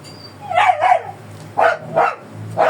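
A dog barks five times in quick, uneven bursts, fairly close and loud, with a low hum in the background.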